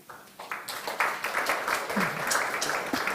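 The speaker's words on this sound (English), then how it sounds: "can we have a huge round of applause before we start?" Audience applause after a conference talk introduction: a short burst of steady clapping from a crowd, moderately loud and building slightly, with a voice briefly underneath.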